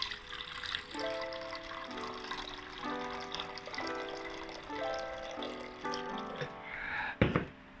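Filtered water poured into a cooking pot, a running splash whose pitch climbs in repeated rising steps as the pot fills, closing with a louder splash near the end.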